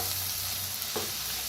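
Steamed brinjal curry with crushed peanut, sesame and coconut being mixed in a hot pan, a continuous close sizzling hiss with a single soft stirring scrape partway through.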